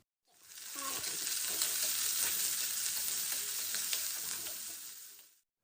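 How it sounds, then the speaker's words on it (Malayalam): Chopped onion hits hot oil with cumin and dried red chillies, sizzling loudly and steadily for several seconds with faint stirring clicks underneath, no voices. "ഇതിനകത്തേക്ക് അരിഞ്ഞു വെച്ച സവാള ചേർത്ത് കൊടുക്കാം എന്നിട്ട് ഒന്ന് വഴറ്റിയെടുക്കാം"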